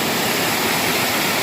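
Waterfall pouring over eroded granite in wild brush country at low water level, a steady broadband roar of falling water, close and loud, continuous with no voices.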